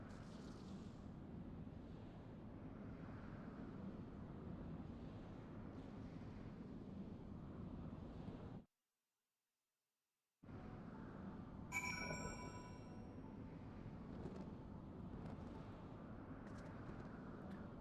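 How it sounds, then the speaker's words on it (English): Heavy rain pours down in a steady, faint, dense hiss that cuts out briefly partway through, then resumes with some thin tones over it. "it's raining like crazy right now"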